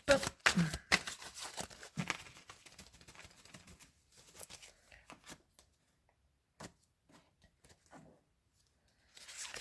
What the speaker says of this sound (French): Allez, un dernier brassage des cartes